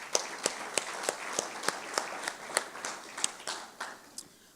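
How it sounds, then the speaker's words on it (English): Light audience applause in a hall after a presentation, a sparse scattering of separate claps at a moderate distance with no talking over them. "Can you please give them a round of applause, please?"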